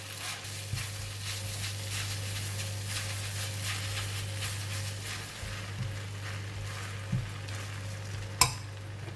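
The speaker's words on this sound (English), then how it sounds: "I'm going to cover the lid for just about 1 minute for the Mee Hoon to cook." Rice vermicelli (mee hoon) frying in a covered pan gives a steady, even sizzle with a low hum beneath, broken by a couple of faint clicks and a sharper knock near the end; no one speaks.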